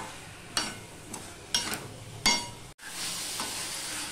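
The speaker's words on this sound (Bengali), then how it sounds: "পটল আলু সব মিশিয়ে নিয়ে আবার একটু আমি কষিয়ে নেব" Pointed gourd and potato being sautéed in a pan, with a faint sizzle under a few distinct scraping stirs and clinks of a spatula, then a brief break and a quiet steady hiss, close and soft.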